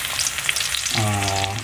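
Garlic and onion sizzle steadily in hot oil, a close, dense frying hiss with a faint tonal hum rising partway through, for a pork giniling dish.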